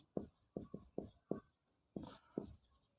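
Writing on a board in a physics class: a series of short, distinct scratchy strokes in quick bursts, close and faint, with brief pauses between groups.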